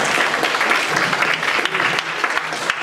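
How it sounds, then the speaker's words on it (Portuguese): Audience applause for a presenter at a software talk on dependency injection, a dense, steady wash of many hands clapping that stays loud and continuous for about three seconds. "Uma salva de palmas aí, pessoal, pro Gugu."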